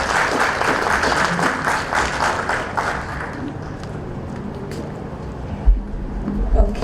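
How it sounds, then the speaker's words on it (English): A crowd at a school awards dinner ceremony applauds with dense, steady clapping that fades out after a few seconds, followed by quieter room noise and a couple of low thumps. "May I have a round of applause for her"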